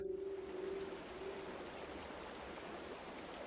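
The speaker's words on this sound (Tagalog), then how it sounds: "Nakaka-relax yung tunog ng ilog." A river flows steadily in a remote countryside setting in Capiz, a smooth continuous rushing wash of water, soft and unbroken, with a faint tonal hum near the start.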